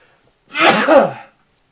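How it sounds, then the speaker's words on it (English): A single sharp sneeze bursts out up close, brief and breathy, in an otherwise quiet room. "I'm about to sneeze here"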